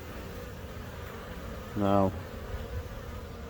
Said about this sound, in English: I'm actually getting covered in bees, and I don't want them to sting me